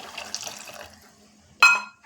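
Coconut milk is poured into a simmering payasam made with sambar dal. Soft liquid trickling gives way to a short, louder splash near the end, with no voices.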